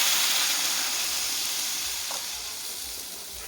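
Cauliflower pieces fry in hot oil in a pan for a Bengali fish curry, giving a loud, continuous close sizzle and hiss that fades slightly toward the end.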